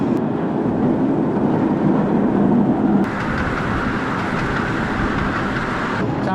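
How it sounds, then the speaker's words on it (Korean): A small tourist train rolls along a flower-lined path in a scenic town, giving a steady loud rumble and clatter that continues throughout, with a shift in tone partway through. "지금부터는 꽃길 따라서 꼬마 열차가 지나가고 있습니다."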